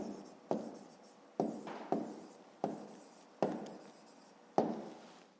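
Pen writing numbers on paper for a fifth-grade maths exercise, heard up close as a series of short, quiet scratchy strokes, each starting with a sharp tap and fading, with no talk.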